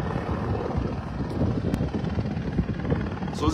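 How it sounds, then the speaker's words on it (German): Steady rumbling rotor and engine drone of a helicopter taking off from an airport apron near Las Vegas, at a distance, constant and fairly loud, with wind noise on the microphone. "Und da startet der nächste Heli."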